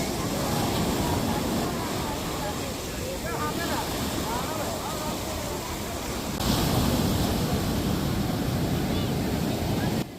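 Sea waves breaking on the beach at Puri, a steady broadband surf roar mixed with wind buffeting the microphone, with voices faintly in the background.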